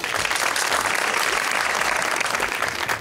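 Studio audience applause at an Eid special television show, a dense steady burst of clapping filling the whole stretch, loud and close with no talk over it.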